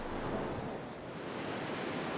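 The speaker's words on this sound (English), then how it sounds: "I hear the ocean." A conch shell held to the ear in Final Fantasy X HD Remaster gives off a steady, soft ocean rush, a continuous wash of surf-like noise with no voices.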